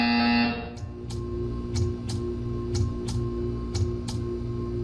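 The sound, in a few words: buzzer in Portal 2 video game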